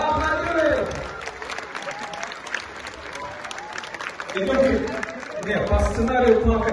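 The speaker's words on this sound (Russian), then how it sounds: "аплодируем" Audience applause fills a hall at a banquet-style event with numbered tables, steady clapping mixed with crowd chatter and voices talking over it, swelling louder toward the end.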